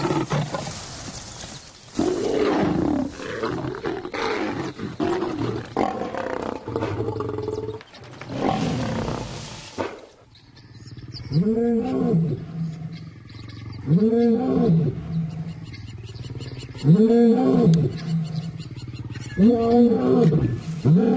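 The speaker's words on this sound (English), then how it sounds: "as they roar their displeasure" Lions in the African bush give a series of deep, powerful roars. The first stretch is a chaotic, overlapping mix; after that come evenly spaced, rhythmic grunting roars that build in loudness and sound close.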